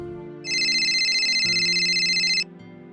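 A mobile phone ringtone sounds indoors, a steady bright electronic tone held for about two seconds over a quiet musical background.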